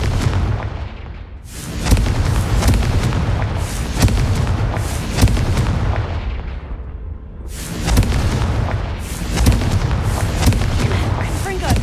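Repeated Confringo fire spells in Hogwarts Legacy burst in loud booming explosions, three or four heavy blasts with rumbling tails and short lulls between them.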